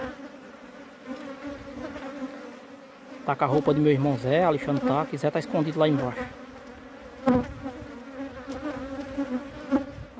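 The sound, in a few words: bees buzzing around their honeycomb on a cliff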